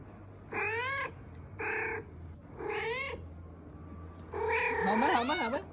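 A cat meows and caterwauls in four drawn-out, wavering cries with short pauses between them, close and loud, the last call longest and most warbling.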